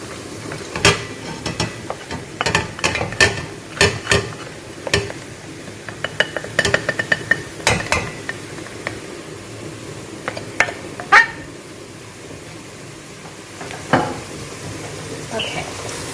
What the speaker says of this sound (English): Just going to give this a quick stir again because it looks like it's softening up now